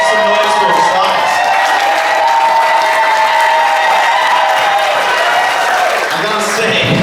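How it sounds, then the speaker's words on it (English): A film festival Q&A crowd applauds and cheers loudly and continuously for several seconds, dense clapping with whoops mixed in. "Make some noise for yourselves."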